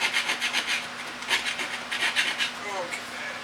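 A screwdriver scrapes rust off a frozen 10-inch horizontal rotary table in close, repeated rasping strokes with a steady rhythm and no talk.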